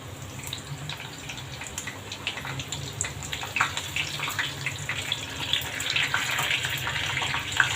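Slit green chillies fry in hot oil alongside moong dal bhaji, a steady loud hiss and crackle that builds and grows denser toward the end.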